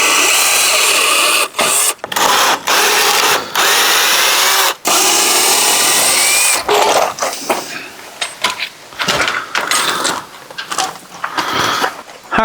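A power drill backs deck screws out of a wooden gate attached to a 2x4 or 4x4 post, with loud sustained whirring bursts separated by brief pauses, followed by shorter, choppier drilling and handling noises.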